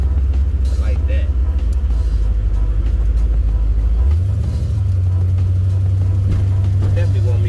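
Steady deep engine rumble from a 1973 Chevrolet Caprice donk on 28-inch forged wheels while riding, loud and continuous with a brief shift in pitch midway, under a voice talking.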